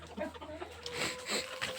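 Chickens cluck nearby at night in short, overlapping bursts, a brief and fairly quiet stretch of poultry noise.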